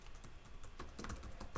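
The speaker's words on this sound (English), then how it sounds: "this is going to be really repetitive here to keep typing this out" Keys clatter on a computer keyboard as code is typed in Go for a gravity simulator, a quick uneven run of close, crisp clicks with no talking.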